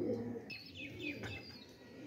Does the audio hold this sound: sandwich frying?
no